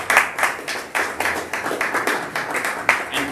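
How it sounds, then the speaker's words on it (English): A seminar audience claps for a lawyer being introduced, a fairly close burst of hands beating in a loose rhythm, with roughly a dozen distinct claps rising and falling over a softer patter. "With a round of applause, lawyer Prince Charles Edubanya"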